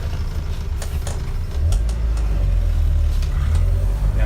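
A 1970 Alfa Romeo Giulia Super with a 1600cc engine pulls away, its steady low engine drone rising slightly in strength as the car gets moving, with faint clicks and rattles over it.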